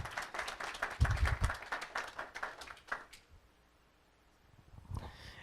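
An audience at a health tech venture capital panel claps for a team member, a brief burst of scattered clapping that thins out and fades into near silence, followed by a faint noise at the end.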